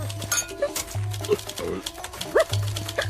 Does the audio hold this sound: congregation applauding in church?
no